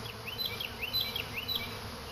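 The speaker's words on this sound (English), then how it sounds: "trying to see if any of the bees are going from one hive over to another hive" Honey bees buzz around hives and a swarm trap, a soft steady hum with individual bees whining past in short rising and falling passes, fairly faint and outdoors.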